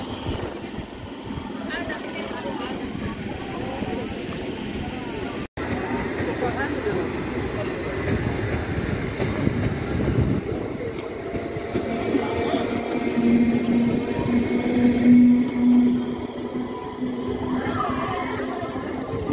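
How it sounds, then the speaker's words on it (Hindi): Passenger train passing through an Indian railway station, a steady rumble and rolling clatter building and swelling midway, with station chatter and people talking throughout. "दोस्तों ये डाउन में जो है ट्रेन चली गई है"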